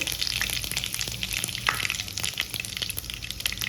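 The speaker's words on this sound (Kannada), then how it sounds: "ಎಣ್ಣೆ ಕಾದ್ಮೇಲೆ ಸಾಸಿವೆ, ಜೀರಿಗೆ, ಸಾಸಿವೆ ಜೀರಿಗೆ ಸಿಡಿದ್ಮೇಲೆ ಕರಿಬೇವಿನ ಸೊಪ್ಪು" Mustard seeds and cumin splutter and crackle in hot oil while tempering for a bendekayi (okra) palya, a dense, steady sizzle with scattered sharp pops close by, no voices.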